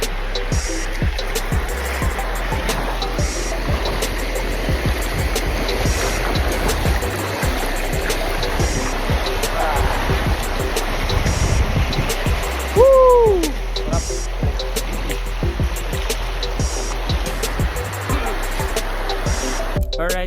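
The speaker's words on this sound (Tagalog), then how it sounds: "tatawid natin lahat ng ilog" Steady rushing water fills the whole stretch, a broad continuous wash of a river flowing nearby, with a brief chirp-like sound rising near the middle.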